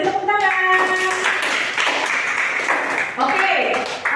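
A school class applauds at the end of a lesson, with a brief spoken voice at the start giving way to a short burst of dense clapping from many hands nearby.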